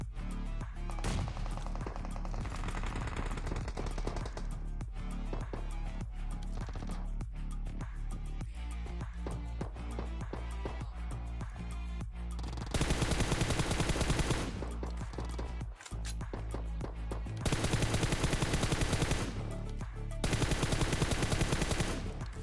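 Heavy gunfire rattles through a fierce battle in the PUBG video game, dense automatic bursts and single shots crackling almost without pause, growing louder and more intense in sustained volleys toward the end.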